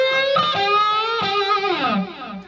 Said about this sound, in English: that's largely, aside from the noise gate, the untweaked distortion sound that this amp came with